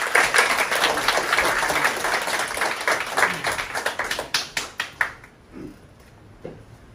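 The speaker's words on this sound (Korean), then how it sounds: "우리 박수로 맞이하겠습니다" A church congregation applauds to welcome a missionary, dense clapping from many hands that thins into a few scattered claps and fades out near the end.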